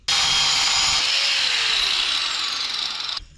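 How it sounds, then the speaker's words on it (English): A cutoff wheel slices through a metal handle with a loud, sustained high-pitched grinding whine that starts abruptly, holds steady for about three seconds and cuts off sharply at the end, close up and alone. "Get your cutoff wheel and whack that handle off."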